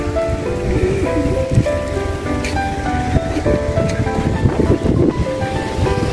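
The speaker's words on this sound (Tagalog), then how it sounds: "Mahangin dito, mahangin." Strong wind buffets outdoors at Lagdingan Airport, a loud, continuous blustery roar with gusty surges and scattered clatter, no voices.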